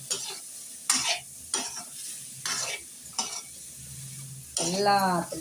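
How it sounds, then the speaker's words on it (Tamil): A spoon scrapes and turns cauliflower pepper masala in a hot pan, several distinct stirring strokes over a soft sizzle, close and clear. "மசாலா நல்லா சேர்ற வரைக்கும் இப்படி பெரட்டி விடுங்க."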